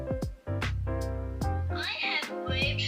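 A cat meows repeatedly, several clear, close, drawn-out cries in quick succession, with a rising plaintive tone and no talk over them.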